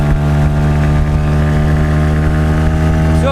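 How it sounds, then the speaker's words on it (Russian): An outboard motor on an Admiral 320 inflatable boat runs steadily and loudly nearby, moving downstream with the current, a constant droning hum with no voices. "давайте попробуем, как пойдет мотор по течению"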